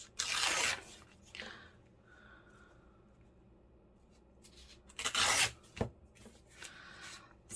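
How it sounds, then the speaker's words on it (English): Paper tags torn by hand for junk journals, with a few sharp, close ripping bursts separated by quiet pauses and faint handling rustle. "I will pause and I will do all the tearing round so that they're ready"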